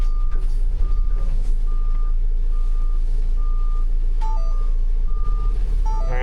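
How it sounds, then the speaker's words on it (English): A Transit van's reversing beeper sounds in a regular series of short, loud beeps over a low engine rumble, close by. "I do like the beeper."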